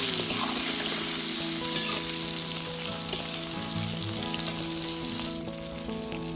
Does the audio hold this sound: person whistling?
no